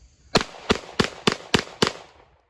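Six sharp gunshots from a Shadow Systems MR920 pistol during break-in, fired at a steady, roughly one-per-third-second rhythm, each loud and close with a short decaying tail, with no talking.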